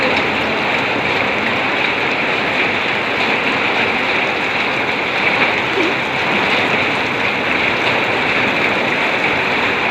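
Heavy monsoon rain in Rajasthan pours down in a loud, constant hiss and patter that stays dense and unbroken throughout.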